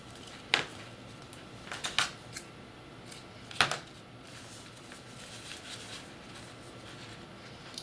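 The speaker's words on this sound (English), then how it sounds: "take your scissors and you want to trim up the ends of your pinwheel" A few sharp scissor snips, close and crisp, trimming ribbon ends of a hair bow, scattered irregularly over a quiet background with faint handling sounds between them.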